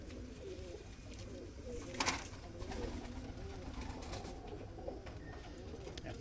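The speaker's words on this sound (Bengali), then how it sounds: "দেখানোর চেষ্টা করি পায়রা।" Pigeons coo repeatedly in a low, rolling rhythm at close range, several overlapping calls layered over steady background noise, with a brief louder burst partway through.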